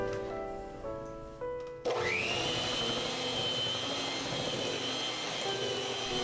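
Electric mixer whirring through chocolate cake batter with heavy cream, starting with a clatter and then spinning up to a steady, high-pitched motor whine that continues close and alone.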